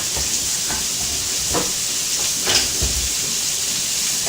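Chopped onion fries in olive oil in a pan, giving a steady broadband hiss and sizzle with a few soft clicks and stirring taps, no voices.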